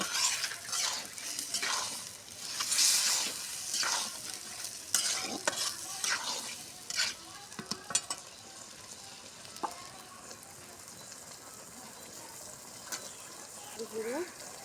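Ground cumin, ginger and garlic paste are stirred in a frying pan, with busy scraping and clinking of a spoon against the pan over a soft sizzle; a few brief voices can be heard faintly.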